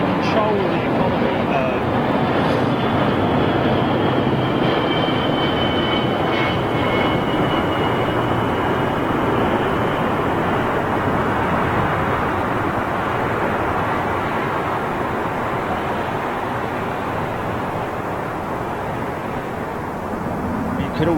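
A jet airliner touches down on the runway at London Heathrow, sending up tyre smoke. Its steady, loud engine roar fills the whole stretch, with wind buffeting and a voice talking over it.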